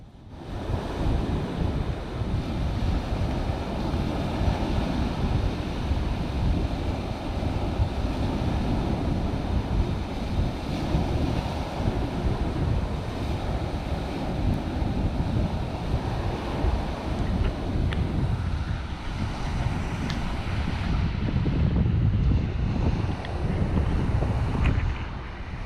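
Ocean surf rolls steadily onto Lighthouse Beach on Sanibel, with continuous broadband wash and wind buffeting the microphone throughout. No one speaks.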